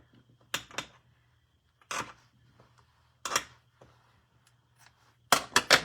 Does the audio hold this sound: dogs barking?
no